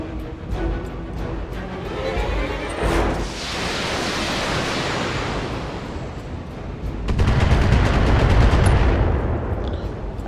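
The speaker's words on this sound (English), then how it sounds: "We'll go ahead and precision strike. I'm going to get a few volleys into this guy." Mech weapon volleys in the video game Battletech, dense roaring barrages of gunfire and explosions with rapid rattling bursts, loud and continuous and swelling again near the end, with no talking.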